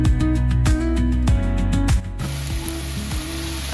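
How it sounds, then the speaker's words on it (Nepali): Veg Manchurian frying in hot oil with onion, capsicum, garlic and ginger gives a steady sizzle beneath loud, tuneful background music. "यहाँनिर चाहिँ मैले हालिसकेको छु, तेलमा फ्राई गर्दैछु।"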